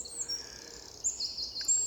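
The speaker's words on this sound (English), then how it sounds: "I have never been in a wood where the bird song is this phenomenal." Birds singing in a wood in the morning, high chirps and trills layered over one another, faint and distant against quiet background.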